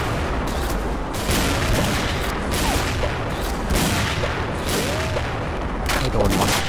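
Repeated sniper rifle shots from the Pegasus AMR-2 in the shooter game XSHOT, loud booming reports with a few spaced bursts over continuous game noise.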